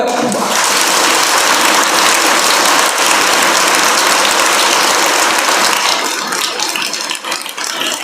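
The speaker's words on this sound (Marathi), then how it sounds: "कडाडून टाळ्या तुमच्या आई वडिलांसाठी" Loud, sustained applause from a large audience at a school event, dense and steady for several seconds before thinning slightly toward the end.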